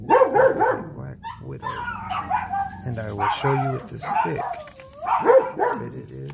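A dog barks and yips in short bursts nearby during an indoor spider demonstration, the barking mixed with a person talking.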